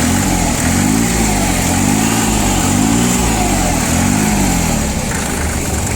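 A Hinomoto C144 four-wheel-drive mini-tractor with a three-cylinder engine runs steadily nearby, a rough, even engine chug with slight rising and falling revs, with no talking.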